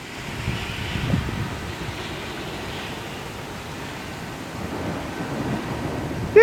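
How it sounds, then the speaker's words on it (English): A small storm rolls in, with steady rain and broad wind rumble carrying a faint low thunder-like roll and a few gusty swells, ending on a sudden close bump. "We got some rain, a few gusts of wind"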